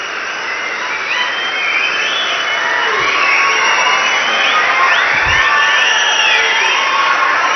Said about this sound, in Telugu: మీరందరూ పెద్ద ఎత్తున చప్పట్లు కొట్టి నాకు మాట ఇవ్వాల్సిందిగా